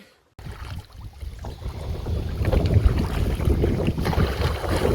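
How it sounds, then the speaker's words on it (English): Wind blowing hard outdoors during a canoe trip through lily pads, a steady broadband rush with microphone buffeting that starts abruptly after a brief silence and grows louder, alone with no talking. "Thank God for the wind"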